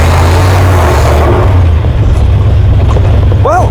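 Engine of a 1969 Jeep Gladiator pickup labouring as it drives up a gravel hill, a loud, close, low rumble throughout with gritty crunching texture and a brief higher squeal near the end.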